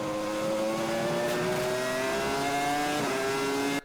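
A Formula 1 car at the Suzuka track howls at a high, steady engine pitch that climbs smoothly, loud and close for the whole stretch before it cuts off abruptly.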